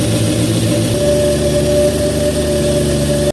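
A test engine, resynced with a timing light after its cooling system was refilled and check shaft reinstalled, idles steadily at close range with a constant mechanical drone and strong low hum, then cuts off abruptly at the end.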